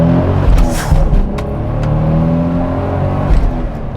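Toyota Supra Mk4 with a 380-horsepower 2JZ-GTE turbocharged engine accelerating hard through gears on a quarter-mile run, a loud close engine roar rising in pitch between shifts.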